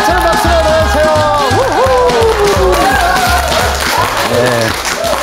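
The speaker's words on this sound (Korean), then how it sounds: "흥찬 박수로 모세요" An audience at a seniors' recreation event applauds as a laughter professor is welcomed on stage, loud clapping heard alongside a speaking voice and music throughout.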